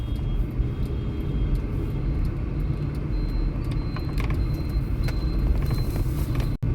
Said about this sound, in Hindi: पब्लिक के काफ़ी इसमें भीड़ भाड़ है ट्रैफिक की